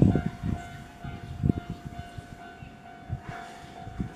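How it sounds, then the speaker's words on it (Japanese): A train pulls in at platform 4 of a Japanese station, low rumbling thuds and rattles under a steady tonal hum, moderately close and uneven in level. "4番線にね、列車が来るようです"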